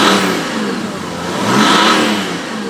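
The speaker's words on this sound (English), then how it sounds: "Up front, you can definitely hear the turbo running." A turbo diesel Mercedes fitted with a catless downpipe runs with its turbo spooling, a broad, loud engine roar that swells and eases, heard up close at the front of the car.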